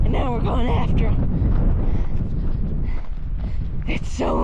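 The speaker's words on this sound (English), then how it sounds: "It's so windy up here." Strong wind roars across a volcano mountainside, a steady broadband rush buffeting the microphone from start to finish, with people talking over it at the beginning and end.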